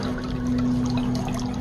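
Hot water pours steadily into the plugged drain of a supermarket frozen food case, a continuous close splashing trickle over a low electrical hum.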